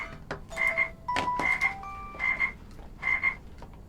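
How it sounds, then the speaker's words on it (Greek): Electronic phone ringtone with a croaking, frog-like chirp, repeating in short bursts of warbling tones at a steady pace, moderately quiet and alone. "Ένας ήχος τηλεφώνου, ένας ηλεκτρονικός ήχος."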